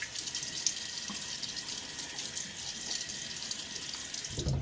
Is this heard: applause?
no